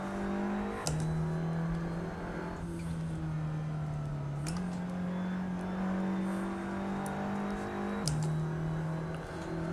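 An Audi race car in a sim racing game revs through gears, its engine tone rising steadily and dropping with each short upshift, about three shifts, steady and moderately quiet.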